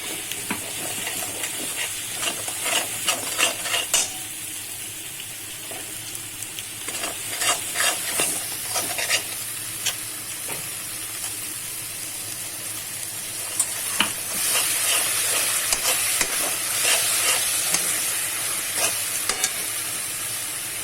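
Fish curry masala of red chilli, turmeric and garam masala sizzles loudly in a hot pan after a little water goes in, with repeated scraping stirs and a steady frying hiss throughout.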